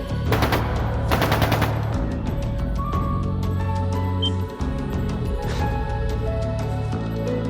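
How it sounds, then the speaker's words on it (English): Rapid bursts of automatic gunfire crackle over a dense, steady soundtrack in the video game Trails of Cold Steel II, with volleys early on and scattered shots continuing throughout. "That sounded like gunfire."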